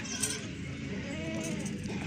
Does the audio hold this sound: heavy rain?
no